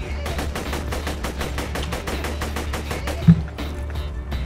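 Rapid gunfire rattles in Borderlands 2 co-op play, a fast, even string of shots repeating for several seconds, with one louder thump near the end.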